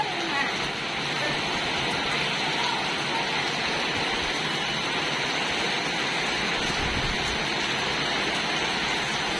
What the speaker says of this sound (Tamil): மழை பிச்சு விட்டுச்சு